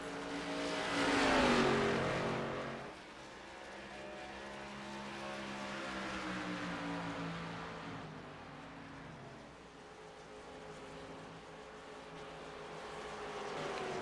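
Race cars roar around an oval track during a race, a loud passing engine sweeping by with a rising and falling pitch, followed by the steady drone of several cars circulating in the distance.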